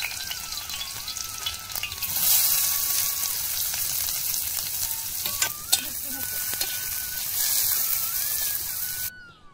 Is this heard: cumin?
yes